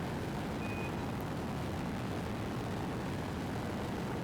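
A rocket engine in Kerbal Space Program 2 roars steadily as it throttles up, a dense, continuous rumble that holds loud and unbroken throughout with no voices over it.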